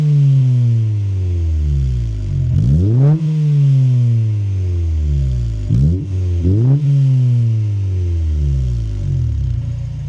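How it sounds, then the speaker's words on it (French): Honda Civic EK4 fitted with an aftermarket exhaust, revved repeatedly in loud, deep rising-and-falling sweeps over a steady idle rumble, with about three sharp throttle blips. "Et je vous mets une vidéo du pot maintenant."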